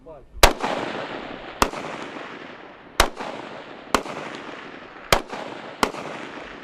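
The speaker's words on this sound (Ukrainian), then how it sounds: "цілять по мішеням із автоматів та кулеметів" Six loud, sharp assault rifle and machine gun shots ring out at uneven intervals outdoors during military tactical training, each followed by a long rolling echo.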